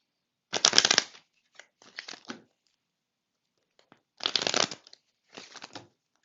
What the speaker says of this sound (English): Okay, think we shuffled enough?